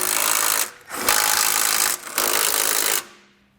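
Hitch bolts are snugged with an 18mm socket on a power tool during a hidden rack receiver hitch installation. There are three loud, close whirring bursts of a few seconds each, separated by brief pauses, ending abruptly.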